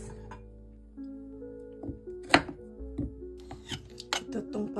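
Squash and carrots chopped with a knife on a board, a few irregular sharp chops near and clear over a steady low background hum, with faint talk at times.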